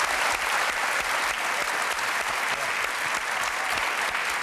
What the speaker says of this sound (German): Kleinen Applaus für Wolfgang, meine Damen und Herren